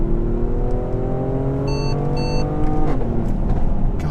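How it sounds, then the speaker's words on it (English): A 2017 Mercedes-AMG GLE43 engine pulls hard under acceleration, rising tones stepping down at quick gear shifts, loud and close from inside the cabin, with a brief electronic warning beep partway through. "those gear shifts sound wicked. How cool does that sound?"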